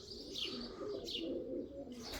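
A pigeon coos softly nearby in a quiet morning setting, with a few short soft calls and faint chirps rising over low background hum.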